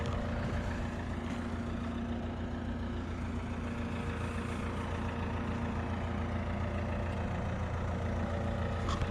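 An old Agri-Weld farm machine built at Garton near Driffield, powered by a Cat engine, idles in a steady low rumble with a constant droning hum, close and unbroken for the whole stretch.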